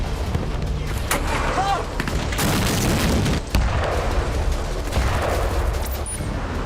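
Heavy exchange of fire between IDF troops and Hamas fighters in Gaza, dense crackling gunfire and booming blasts rolling continuously at a distance, with a sharp dip and burst midway and faint voices underneath.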